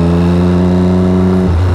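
A Triumph Daytona 675 motorcycle fitted with a Yoshimura slip-on exhaust runs loud and close, holding a steady, throaty engine note before it dips lower near the end.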